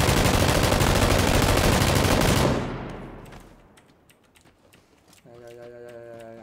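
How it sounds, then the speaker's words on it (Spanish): Dense, continuous automatic gunfire in the battle royale shooter PUBG, loud and rapid for a couple of seconds, then dying away into scattered faint shots and clicks before a tonal game sound rises. "¿Tú estabas disparando a alguien?"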